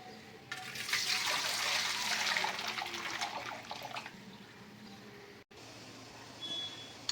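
Hot water is poured out of a cooking pot in a home kitchen, a close, splashing stream running for a few seconds before tapering to a quieter trickle and stopping.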